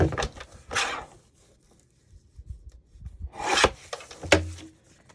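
Paper being trimmed for a tiny handmade journal, several rough rasping swipes and tearing strokes in separate bursts with quieter gaps of faint rustling between them.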